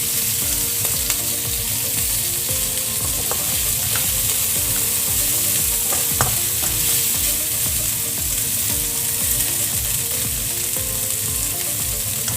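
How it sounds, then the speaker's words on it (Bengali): Meat stir-frying with vegetables in a pan over raised heat, a loud continuous sizzle with rhythmic scraping and tossing strokes throughout, close up, with no talking. "এখন এগুলোকে মাংসের সাথে একটু মিশিয়ে 2-3 মিনিটের মতো চুলাটাকে বাড়িয়ে রান্না করে নিব।"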